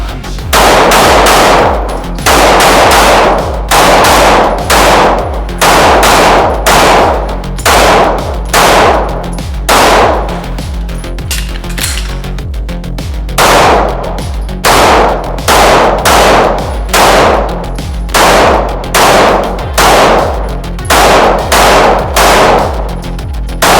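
Rost Martin RM1C pistol fired in fast strings on a shooting range, loud sharp reports in tight repeated bursts separated by short pauses.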